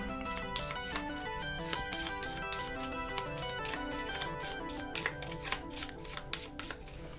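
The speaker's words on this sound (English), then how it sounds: "choose cards from your discard pile until 6, then shuffle these cards back into your deck" Playing cards from a Power Rangers Heroes of the Grid board game are shuffled back into a deck. A quiet, close run of rapid papery riffles and snaps repeats in bursts without pause.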